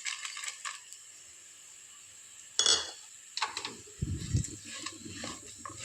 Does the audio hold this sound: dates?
yes